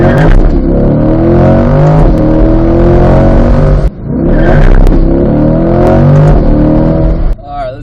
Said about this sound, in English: Now I'll just sit here and do a bunch of 1-2 shifts because all the other shifts feel great.